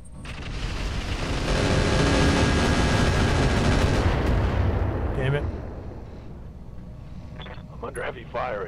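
Heavy weapon fire from Roguetech, a BattleTech mech game, a loud sustained booming barrage lasting several seconds that fades into quieter rumble and scattered impacts.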